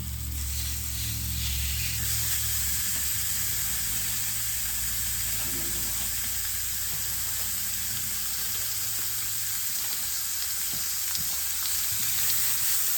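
Thin burger patties fry in olive oil in a pan, a steady close sizzle and spatter running throughout with low rumbling kitchen noise beneath and no speech.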